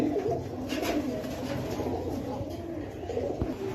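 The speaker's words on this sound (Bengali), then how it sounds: "এখানে একজোড়া কবুতর দেখেন ডিমের উপর বসে আছে।" Soft, low coos from a pair of pigeons sitting on eggs repeat close by in a steady murmuring rhythm, with a faint background hum.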